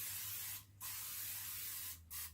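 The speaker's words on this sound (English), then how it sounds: "we're going to spray it down. A little bit of cooking spray." Cooking spray hisses from a can onto a large deep skillet in two short bursts, the first longer and the second quicker, close and fairly quiet over a steady low hum.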